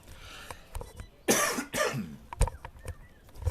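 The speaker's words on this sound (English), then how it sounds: "there's a large coughing fit coming." A person coughs harshly several times in quick succession, close and fairly loud, with throat clearing and breathy pauses between bursts.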